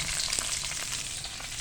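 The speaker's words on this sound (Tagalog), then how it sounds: "Next guys, I will put my onion." Onion sizzling in a hot pan of browned garlic while cooking pancit canton, a steady close crackling fry with soft stirring and no voices.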